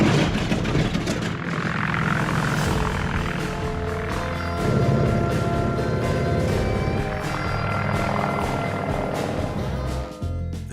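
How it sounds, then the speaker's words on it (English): WWII Wildcat fighter planes fly overhead on radial engines, giving a loud sustained droning propeller roar with a rich harmonic hum that holds steady across the whole stretch. "I always get goosebumps when I hear those radial engines running."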